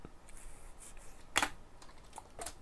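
Scattered light clicks of keys on a computer keyboard as a git clone command is typed, soft and close with one sharper tap midway and no talking.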